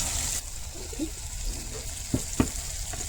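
Whisked yogurt goes into a hot curry gravy with cashews and raisins, raising a steady sizzle and frying hiss; a couple of sharp spoon knocks against the pan follow near the end.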